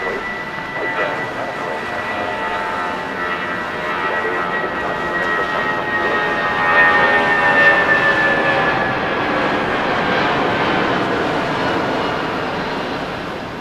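An airplane roars on runway 6 right at LAX during a storm, its engine noise a broad steady rumble with a whining tone that slowly descends, swelling slightly in the middle before easing off.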